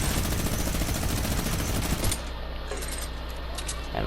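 A Fortnite minigun fires in a dense, rapid, unbroken stream of loud shots for about two seconds, then cuts off abruptly, leaving a lower rumbling tail with faint metallic clinks.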